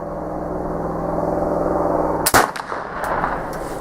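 A Traditions PA Pellet Flintlock rifle fires once, a sharp close blast after a steady background hum, followed by a brief fading rumble and small clatter.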